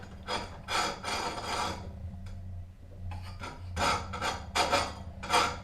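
An Oregon 520-120 chainsaw chain grinder wheel lightly touching a chain tooth, giving quiet, repeated rasping bursts in an uneven rhythm with short pauses between contacts.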